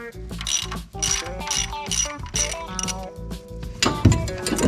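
A hand tool is cranked to seat a camshaft seal during timing belt and water pump work on an NA/NB Mazda Miata. Close, loud rhythmic ratcheting clicks and mechanical grinding repeat steadily throughout.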